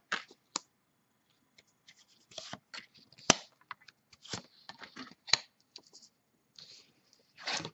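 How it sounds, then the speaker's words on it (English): Short bursts of riffling and soft slaps of a deck of cards being shuffled, separated by quiet pauses, close and fairly faint. "As I shuffle the deck"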